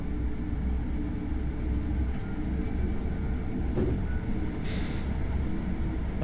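A train running in a Dovetail Games train simulator, a steady low rumble with rail clatter throughout, joined briefly by a short hissing air-brake release near the end.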